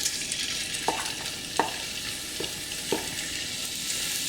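Sausage meat, removed from its casing, frying in avocado oil in a pan over medium heat: a soft steady sizzle with a few brief scraping stirs, faint and without talk.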